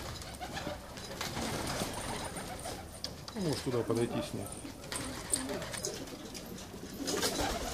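Pigeons of a unique breed coo in a dovecote, soft throaty calls rising and falling amid rustling and a busy noisy background, with people talking nearby.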